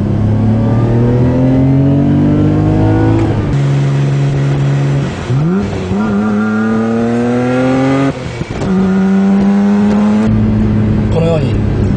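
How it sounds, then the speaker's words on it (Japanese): A car fitted with an HKS Super Turbo Muffler is pushed above 3000 rpm. Loud, close engine and exhaust note climbs in pitch through repeated rev sweeps with brief drops between them. "このようにスポーツマフラー独特の迫力あるサウンドを奏でます。"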